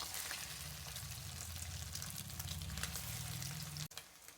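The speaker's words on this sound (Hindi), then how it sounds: "अभी हम लोग इसको फ्राई कर लेंगे।" Shami kabab patties fry in hot oil with a steady, close sizzle and a low rumbling undertone that runs unbroken for about four seconds before a sudden bump cuts it short.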